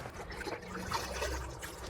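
A part from a Lay Z Spa Milan hot tub is dipped into warm soapy water, giving a brief close sloshing and trickling of liquid with no talk.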